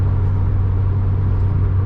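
Honda Civic EK4 with a VTEC engine, a steady, loud, low droning engine note with induction noise, held at an even pitch throughout, with no voices.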